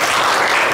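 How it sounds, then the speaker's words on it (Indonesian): Dense, steady applause fills a classroom during a lesson, many hands clapping together loudly and continuously with no voices breaking through. "Kita beri tepuk tangan untuk"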